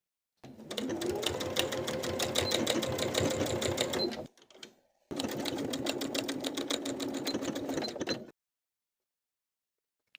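Sewing machine stitching in the ditch along the shoulder seams of a ruffle top, two steady rapid-stitch runs split by a brief pause, then silence.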